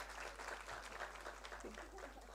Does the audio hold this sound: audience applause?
yes